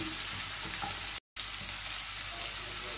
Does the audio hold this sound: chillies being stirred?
yes